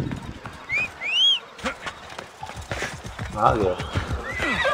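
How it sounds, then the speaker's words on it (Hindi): Horse in Assassin's Creed Odyssey whinnying loudly twice and clip-clopping as it gallops, hooves drumming steadily throughout, with someone briefly talking over the game audio. "मेरे घोड़े"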